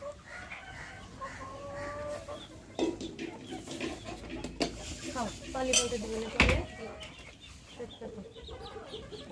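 Native chickens cluck in bursts at close range, mixed with clinking dishes and a sharp clatter, while a person talks to them.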